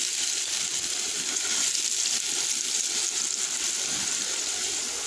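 Potatoes with turmeric and salt fry in a covered pan over medium heat, giving a steady, loud, even sizzle that barely changes from start to end, with no talking.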